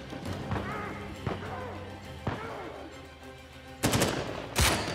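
Sharp sniper rifle shots crack in Uncharted 4, a handful of spaced single reports over a low game ambience, the last two louder and closer.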